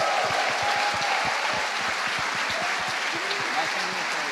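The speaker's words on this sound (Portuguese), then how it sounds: "a gente queria dar um parabéns para a Nancy, dá uma salva de palmas para ela." Congregation at a family church conference clapping together, loud and dense applause with a rhythmic pulse of synchronized claps underneath, voices faintly mixed in.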